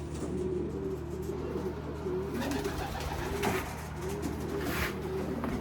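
Racing pigeons coo softly in a loft, repeated low rolling coos spaced across the stretch over a steady background hum, with faint rustling and no talk.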